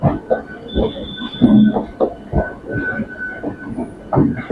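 A passenger express train between Howrah and Durgapur rumbles along steadily with rhythmic clatter from the wheels and a faint high whine above, heard from inside, with no voices.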